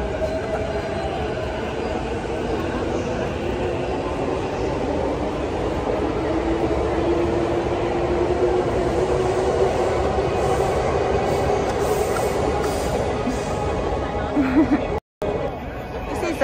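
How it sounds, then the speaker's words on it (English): A Keihin Tohoku Line train moves through Shimbashi Station in Tokyo with a sustained rumble of wheels on rails and a rising whine. The sound is loud and continuous and is briefly cut near the end. "This is Shimbashi Station. Keihin Tohoku Line."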